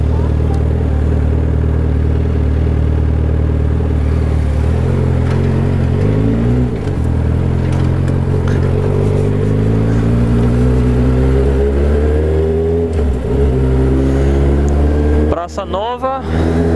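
A loud Suzuki GSX750F motorcycle engine drones close by, its pitch rising and falling as it revs, with a voice talking over it.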